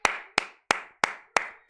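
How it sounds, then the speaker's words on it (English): Six sharp, evenly spaced handclaps from a single person, close and loud, each a crisp snap with a short fading tail. "Even I'm applauding myself."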